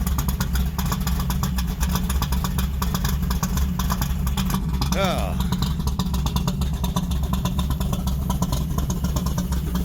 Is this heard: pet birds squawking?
no